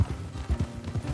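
Horse hooves clip-clop on a road in the video game Red Dead Redemption 2, a quick, fairly quiet run of soft thudding steps with no voices over them.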